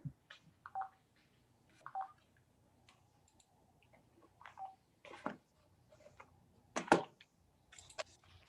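Telephone keypad tones from a speakerphone call, a series of short separate beeps spaced irregularly over several seconds, fairly quiet with faint room noise between presses.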